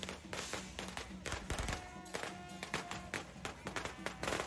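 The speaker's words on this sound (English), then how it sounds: "spurred on by the noise of the firecrackers" Dense crackling bursts of firecrackers explode continuously at a Masong shrine festival, loud and close, with drums and crowd noise mixed in and a sustained tone running underneath.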